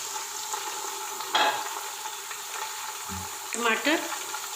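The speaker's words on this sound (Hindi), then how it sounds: "प्याज हमारे फ्राई हो गए हैं। अब हम इसमें ऐड करेंगे गोश्त।" Beef fries in ghee with already-browned onions, a moderate, even sizzle with a brief clatter of the meat going in and a couple of short utensil knocks near the end.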